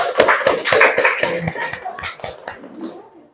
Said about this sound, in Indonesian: Ya, silakan tepuk tangan ya.